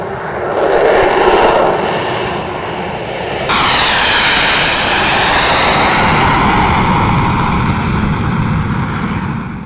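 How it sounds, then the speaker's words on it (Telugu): NASA's X-59 supersonic jet, built by Lockheed Martin, roars loudly and steadily overhead, its engine noise swelling abruptly partway through and holding as a broad, sustained rush with no voices. "X-59 సముద్రతలంపై గంటకు 1225 కిలోమీటర్లకు పైగా వేగంతో దూసుకెళ్లగలదని వెల్లడించారు."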